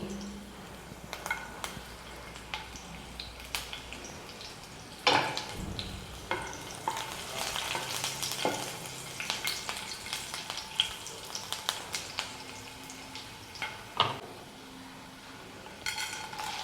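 Dried red chillies and garlic crackle and sizzle in hot oil, with occasional sharp clatters of a spoon stirring the pan.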